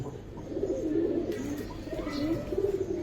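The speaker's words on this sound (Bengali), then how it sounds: "ইন্ডিয়ান খাকি কবুতর ভাই হাই ফ্লেয়ার কবুতর গুলো দেখি" Indian-breed pigeons at a pigeon sale give soft, low, repeated coos close by, a steady murmur of calls layered over faint market ambience.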